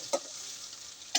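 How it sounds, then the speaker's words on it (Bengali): Onions frying in oil for a khichuri topping give a faint, steady sizzle, broken by two brief, sharp stirring clinks near the start and end. "এই মুহূর্তে পেঁয়াজ ভাজি করা হচ্ছে খিচুড়ি ভাতের উপরে ছিটিয়ে দেওয়ার জন্য"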